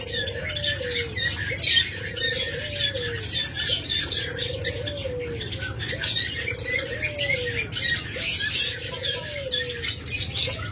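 Caged pet lovebirds and budgerigars call steadily at a bird shop, with repeated squawks roughly every second and dense chirping and chatter layered above a low hum of background noise.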